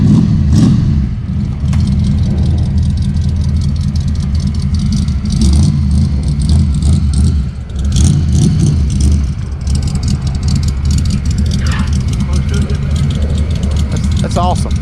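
A Ford Mustang engine running loud and close, with deep rumbling revs rising and falling over roughly fifteen seconds of continuous engine noise.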